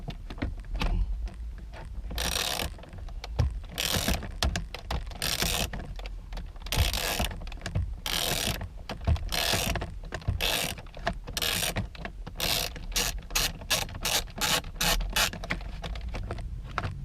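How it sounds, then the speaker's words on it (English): A 7mm bolt is worked loose from a car's push-start button shroud with a ratchet, giving repeated rapid clicking bursts and metallic ticks, close and fairly loud, with no talk. "after you've removed the second bolt, the second 7mm bolt, this comes out"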